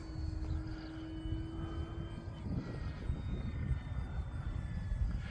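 An E-flite Focke-Wulf Fw 190A 1.5 m electric RC warbird flies overhead with a steady, distant motor and propeller hum under wind noise.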